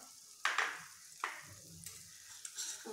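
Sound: spices sizzling in oil in a pan

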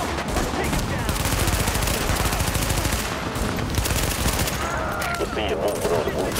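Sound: gunfire in The Division video game

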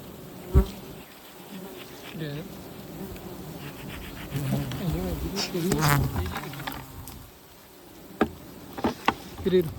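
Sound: bees buzzing around a honeycomb on a neem tree

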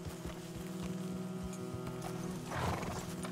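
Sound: horse snorting and hooves in video game Red Dead Redemption 2

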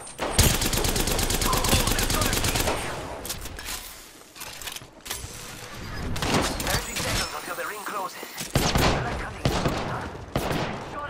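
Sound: gunfire in the video game Apex Legends

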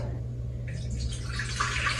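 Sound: water poured into pot for cooking chicken mandi

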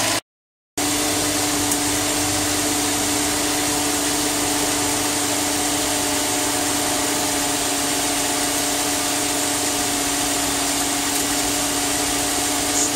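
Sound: Subaru engine running while checking transmission fluid

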